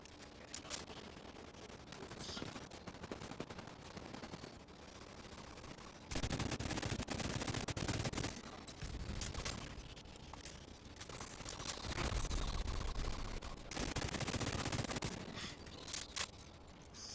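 Rapid automatic gunfire from a gun turret in a live-streamed video game, coming in dense sustained bursts that swell loud and then ease off across the whole stretch, with no talking over it.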